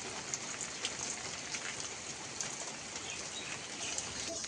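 Light rain falls with a steady, even hiss that fills the whole stretch at moderate volume, and a bird calls faintly now and then.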